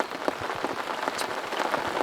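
Light rain patters steadily on the ground and water at a fishing lake, an even spread of soft close drops with no voices.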